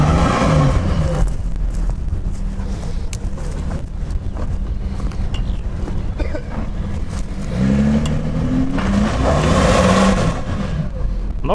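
An off-road vehicle's engine labouring and revving on rocky ground during a four-wheel-drive test, a low rumbling drone with a louder surge near the end, under heavy wind buffeting on the microphone.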